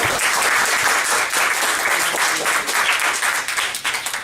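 An audience at a comedy show claps loudly and continuously, a dense, even wash of hands that dips slightly near the end.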